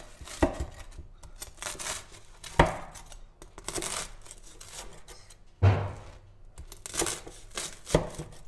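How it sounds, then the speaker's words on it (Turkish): A knife chops a toasted sandwich into small slices on a board in a home kitchen. Several sharp, separate chopping strokes land at irregular intervals, close and fairly loud, with crinkly handling sounds between them. No one speaks. "Başta bir bunu ufak dilimler halinde doğruyorum."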